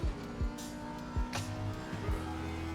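Lamborghini race car in the racing game Assetto Corsa Competizione, engine notes dropping in quick repeated downshift sweeps under braking for the final corner, with tyre noise and a steady mechanical drone, fairly quiet.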